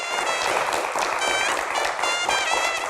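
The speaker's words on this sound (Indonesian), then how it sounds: "Kita berikan tepuk tangan yang paling meriah." A live studio audience welcomes a guest with steady applause at an evening Q&A talk show, dense and sustained throughout with a bright wash of claps and no talk over it.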